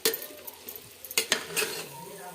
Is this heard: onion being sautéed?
yes